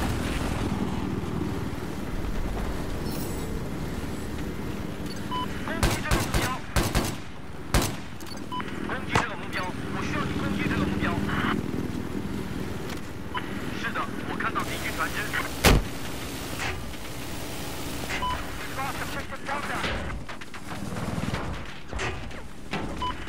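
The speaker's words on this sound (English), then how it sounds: "An assault rifle, not an RPG." Assault rifle fire in Battlefield 4 crackles in repeated bursts and single shots amid a dense, loud battlefield din with explosions and a voice speaking over it.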